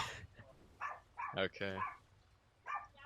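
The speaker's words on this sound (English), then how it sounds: "My dog is kind of barking." A pet dog barks a few times at neighbors outside, the sharp barks sounding muffled and slightly distant, interspersed with brief quiet speech.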